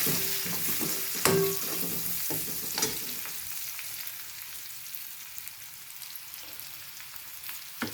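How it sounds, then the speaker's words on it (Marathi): Green chilli pieces and curry leaves fry in hot oil with a steady, close sizzle, broken by a couple of sharp utensil clinks early on before settling into a quieter crackle; no one speaks. "त्यात आपण 2 मिरचीचे तुकडे आणि कढीपत्ता घालून घेणार आहोत"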